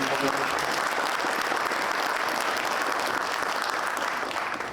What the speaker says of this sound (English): maybe a small applause for the ladies